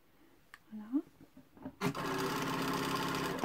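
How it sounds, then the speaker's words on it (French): A sewing machine stitching a blouse starts up after a moment of talking, then runs fast and steady as a close, even mechanical whir. "C'est pas parce qu'on a une machine qui va euh, en mode Speedy Gonzalez qu'on est obligé d'aller au point le plus rapide"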